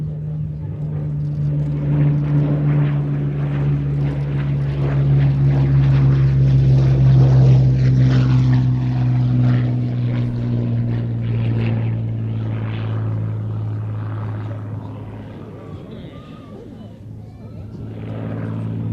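A propeller-driven fighter flies at the Little Gransden Airshow 2021, its engine giving a steady, loud droning hum that swells and fades slightly across the pass, with a commentator talking over it throughout.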